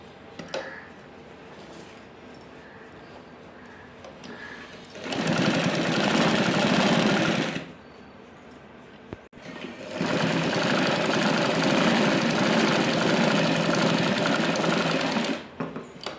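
Sewing machine stitching pockets with a double row of stitches, running in two loud sustained bursts of about three and six seconds separated by a quieter pause.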